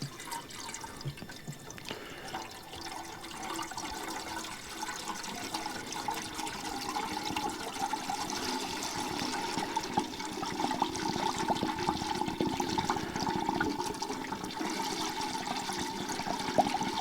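Fuel poured into the tank of an M151 jeep makes a steady gurgling, splashing flow that runs continuously and close by, with no talk over it.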